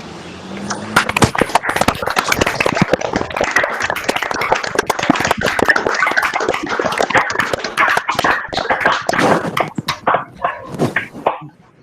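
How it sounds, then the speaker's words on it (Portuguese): An online audience of a university physics colloquium applauds the speaker through opened microphones, dense steady clapping for several seconds that thins out near the end. "Eu proponho que abram os microfones para aplaudir o palestrante."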